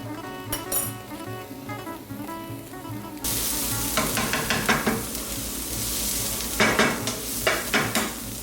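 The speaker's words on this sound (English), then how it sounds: "Our onions and our garlic are cooking." Onions and garlic with olive oil sizzling in a pan, a gentle hiss at first and then a louder, steady frying sizzle punctuated by the clink and scrape of stirring, with no talk.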